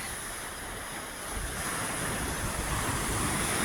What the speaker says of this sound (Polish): Słyszycie, jak fale biją o brzeg?